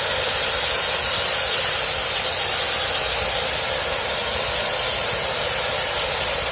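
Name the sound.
steam locomotive GSMR 1702 poppet valve hissing, releasing excess steam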